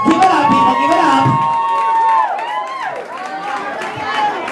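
A nightclub crowd at a Latin night event cheers and applauds loudly and steadily, with a loud announcer's voice carrying over the noise before it settles into a looser murmur of shouts and chatter.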